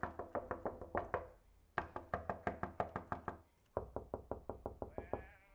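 Door knocking in the game Hazing Night Shift comes in three quick bursts of repeated sharp raps separated by short pauses, close and loud, ending with a brief bleating, tonal sound.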